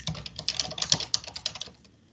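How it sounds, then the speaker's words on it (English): Quick bursts of keystrokes on a computer keyboard during an online webinar, a close run of crisp clicks lasting about two seconds before trailing off into quiet. "sorry, I didn't know I was going to need my typing skills today."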